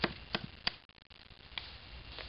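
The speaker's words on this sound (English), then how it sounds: "chopping and batoning which we talked about with the A1, so you can kind of see it in action" A Fallkniven A1 knife chops and batons wood outdoors, with several sharp knocks spaced unevenly and fairly close, and no talking.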